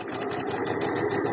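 A sewing machine stitches hexagon quilt blocks in a steady, continuous close whirring hum with fast rhythmic needle pulses throughout, no talking.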